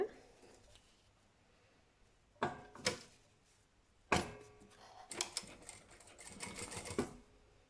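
A sewing machine stitching fabric rectangles for a lunch bag, with short quiet bursts of rapid needle clatter separated by pauses, near and faint.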